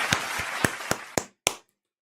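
A handful of loud, sharp hand claps ring out alone in a small room, about six spaced beats that slow and stop, ending in silence.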